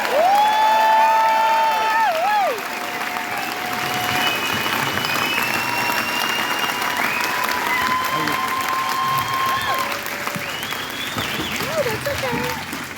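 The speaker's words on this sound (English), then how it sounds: "Give them a round of applause." Rally crowd at a convoy event in Monrovia, Indiana applauding and cheering, steady sustained clapping with whoops and shouted voices over it.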